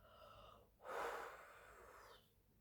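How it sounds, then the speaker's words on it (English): A single drawn-out yawn, close and fairly loud, with a breathy rushing inhale swelling for about a second and tapering into a sighing exhale over faint background hum. "I do have to yawn again"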